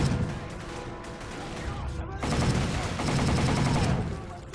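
Rapid automatic gunfire in a shooter video game rattles on continuously and loudly for a few seconds, with dense bursts of overlapping shots.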